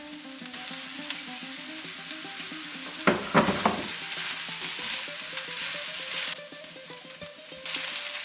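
Rice being stir-fried with green beans and other vegetables for egg fried rice: a steady close sizzle with spatula scrapes and clatters, including a louder burst of tossing around the middle, no voices.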